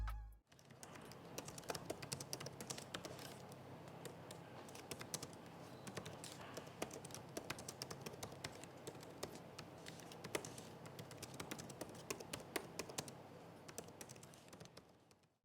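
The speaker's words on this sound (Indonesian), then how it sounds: "berikutin deh contoh suara feedback dari keyboardnya" Typing on the keyboard of an Acer Aspire 5 Slim Creator Edition laptop, a dense run of quick, soft, close key taps that continues steadily with no talk.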